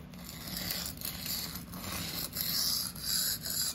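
Slow freehand strokes of a REX-45 super-steel knife blade across a sharpening stone, a steady gritty scraping that repeats in long passes, close and fairly quiet with no talk.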